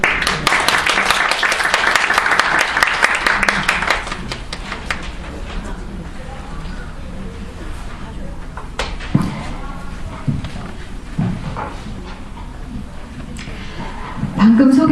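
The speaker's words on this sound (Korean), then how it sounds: "박수로 맞아주시기 바랍니다" Audience clapping to welcome a sociology professor to the lecture podium, loud at first then dying into scattered claps, room noise and a few shuffling knocks as she steps up.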